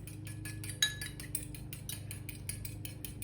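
Light, rapid clinks of a utensil against a bowl as cocktail sauce with lemon juice is stirred, quiet and close in a steady scraping rhythm.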